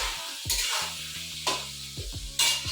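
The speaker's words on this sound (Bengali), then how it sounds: "আলু ভাজা বসিয়ে দিলাম" Potatoes fry in a pan with a steady, soft sizzle, broken about three times by louder scrapes of stirring; nobody speaks.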